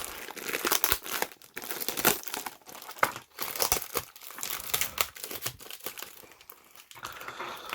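Plastic packaging on a fountain pen collection crinkles and crackles up close in irregular bursts, with occasional sharper tearing sounds as it is pulled apart.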